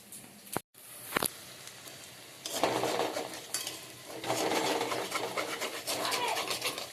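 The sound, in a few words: potatoes and onion fritters frying in a pan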